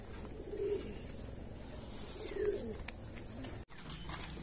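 Taiwan racing pigeon back at its loft, giving soft low coos in two short close bursts against quiet background hiss.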